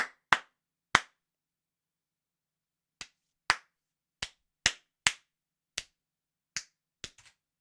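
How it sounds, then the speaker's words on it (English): Scattered individual hand claps, about a dozen crisp single strikes at irregular intervals with a long pause early on, close and distinct with no voices. "Greg, why didn't you give him a please clap?"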